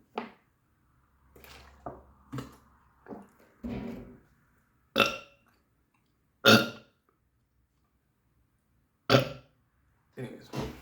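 A person gives a series of separate, abrupt burps, about eight short loud bursts scattered across the stretch with quiet gaps between them.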